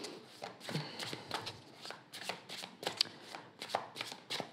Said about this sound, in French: je vais faire une coupe et je vais prendre 3 cartes pour mes amis lions